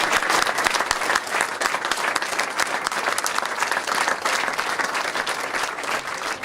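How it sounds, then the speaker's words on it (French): An audience at a trophy presentation gives dense, continuous applause, with many hands clapping at an even level throughout and no voices over it. "Je crois qu'on peut l'applaudir."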